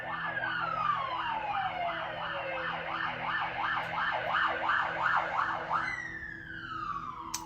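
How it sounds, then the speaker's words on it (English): Several ambulance sirens wail past in overlapping, rising and falling cycles, loud and close, with one siren sweeping downward as it passes and the next taking over near the end; no talking. "I'm just gonna let the sirens go past."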